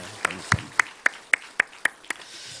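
A congregation at a Sunday morning church service claps in thanks: a slow, evenly spaced series of about eight distinct claps, fairly close and clear over a quiet room.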